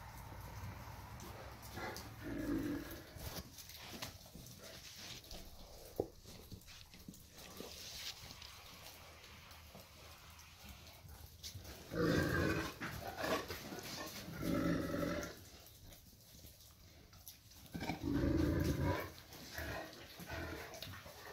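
Several dogs bark in short bursts outdoors in snow, with louder clusters of barking and a low growl-like rumble between them, fairly close and without talk.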